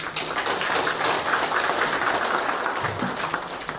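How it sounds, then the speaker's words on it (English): Audience applause at a hotel initiative event, a dense, loud wash of clapping that holds steady for a few seconds, close and continuous like heavy rain. "a bigger round of applause for the initiative itself"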